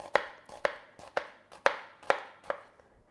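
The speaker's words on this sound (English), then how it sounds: "Now we want 1/4 cup of onion, finely diced. So I'm just going to cut that in really close." Knife chopping through onion on a cutting board while finely dicing it, six or seven crisp, evenly spaced cuts close by in a steady rhythm, with no talking.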